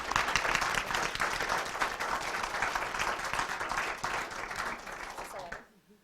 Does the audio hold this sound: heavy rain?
no